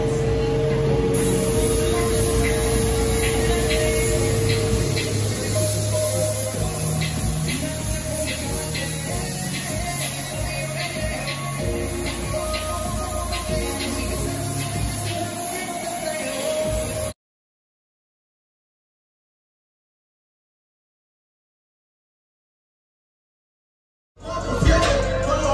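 A spray gun lays the final base coat on a Honda CRX in a garage without a booth, giving a continuous close hiss over an engine-like hum for about seventeen seconds before cutting to silence.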